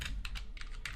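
Rapid keystrokes on a computer keyboard as a git command is entered, a handful of crisp, close clicks in quick bursts with short gaps, heard alone.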